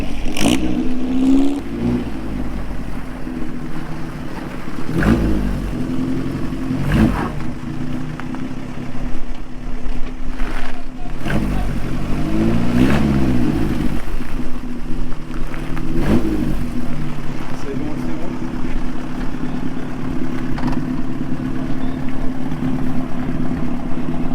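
A 1926 Morgan vintage car engine runs at a gathering, a loud steady mid-pitched rumble with periodic revs swelling throughout, close by.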